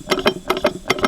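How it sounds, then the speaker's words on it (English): Worn bearings rattle in an old 1980s outboard motor, giving rapid, regular metallic clatter in close, loud repeating bursts about five times a second. "bearings are shot and it's rattling around"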